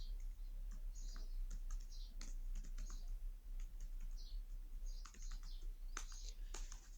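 Rapid clicking keystrokes on a computer keyboard as code is typed, quiet and close, coming in uneven bursts with short pauses, no talking.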